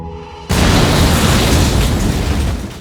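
A bomb strapped to a person detonates in an action film scene, a sudden loud, dense blast that erupts after a quiet moment and roars on with a sustained rumbling wash.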